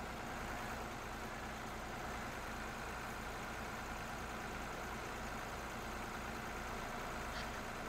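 Tractor engine idling in the Farming Simulator 22 video game, a steady low, faint rumble that stays constant throughout with no talking.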